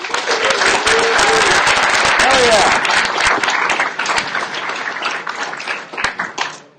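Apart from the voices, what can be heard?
audience applause for LinuxFest Northwest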